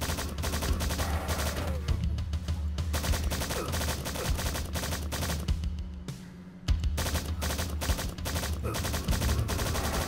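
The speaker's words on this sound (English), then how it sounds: "there's a turret on the opposite side right there trying to shoot me" Rapid bursts of turret gunfire in the video game Strife, a dense, loud, steady rattle of repeated shots that runs almost without pause, with one brief lull midway.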